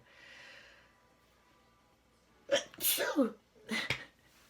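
After a near-silent pause, someone lets out a loud, close sneeze, followed by a short breathy sound.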